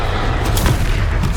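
A Confringo blasting-curse explosion in the Hogwarts Legacy video game, heard as a loud, dense, rumbling boom that fills the whole short moment with no voices.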